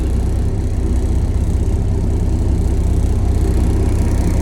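Inside the cab of Chuck Snow's cabover Mack truck, the engine runs loud and close with a deep, steady, throbbing low rumble that stays constant throughout.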